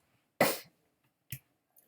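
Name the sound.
person coughing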